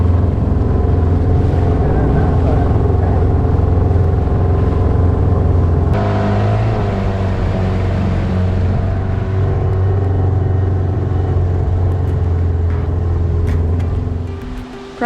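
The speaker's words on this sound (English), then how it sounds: "Probably the easiest dinghy landing we've ever done in our life." A dinghy outboard motor runs steadily and loud close by on a sandy beach landing, its low drone shifting pitch midway and easing off at the end, with water noise underneath.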